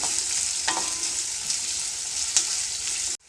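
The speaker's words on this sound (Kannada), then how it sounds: "ಈರುಳ್ಳಿನ ಒಂದು ಸ್ವಲ್ಪ ಫ್ರೈ ಮಾಡ್ಕೊಳ್ತೀನಿ" Three medium onions frying in a pan for paneer masala, producing a loud, even hiss with a couple of stirring clicks before the sound cuts off abruptly.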